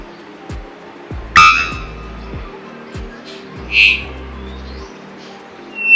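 A small bird gives a few loud, sharp calls over a quiet background, with low rumbling noises passing beneath.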